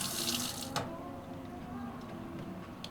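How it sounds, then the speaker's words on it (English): Water runs steadily from a touch-activated faucet into a sink, a continuous hissing splash with a brief clatter near the start. "So when the light's on, the touch faucet is working."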